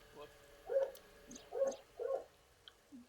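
Game dog from AI The Somnium Files barking three times in a steady rhythm, each a mid-pitched woof, with a voice talking faintly beneath.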